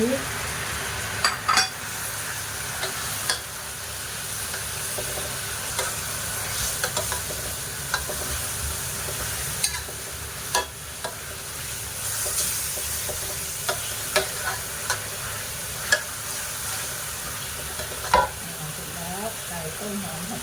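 Ginger sizzles in a hot pan with a splash of Chinese cooking wine, a continuous close frying hiss broken by frequent spatula scrapes and metallic clinks against the pan, with no talking.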